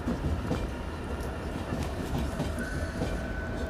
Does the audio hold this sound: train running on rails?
yes